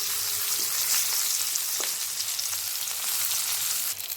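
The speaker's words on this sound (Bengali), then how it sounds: "এখন আমি আবার পাশ উল্টে দেব এবং ভালো মতন এপাশ ওপাশ করে ভেজে নেব, যাতে কাঁচা ভাবটা না থাকে পাতার" Bottle gourd leaf fritters frying in oil, a loud continuous hiss and crackle close up, with a brief scrape as they are turned over.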